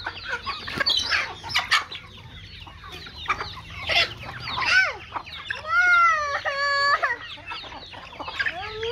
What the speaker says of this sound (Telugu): కోడిని పట్టుకెళ్తున్నా